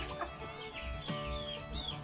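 Rhode naked-neck chickens cluck and chatter close by in a busy farmyard, overlapping calls over steady background noise, with no talking.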